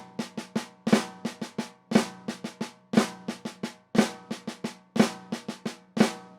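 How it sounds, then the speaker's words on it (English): Close, dry snare drum playing the Blushda rudiment over a triplet feel, with grace-note flams and rapid strokes in a steady repeating pattern and regular accents, with no talking. "That's the Blushda played over triplets."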